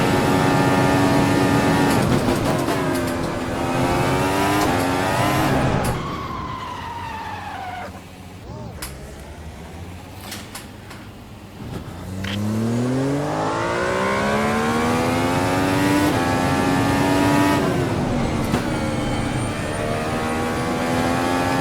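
A 1,000-horsepower F-Ultimate open-wheel race car in the Automobilista sim at Interlagos: a loud, high-pitched engine screams at full revs, drops through rapid downshifts under braking, then climbs again through upshifts as it accelerates away.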